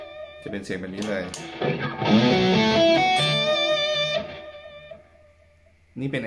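Distorted electric guitar picking a pentatonic arpeggio one note per string, the notes ringing and overlapping in a bright, sustained run that swells and then fades, with a fresh note struck at the very end.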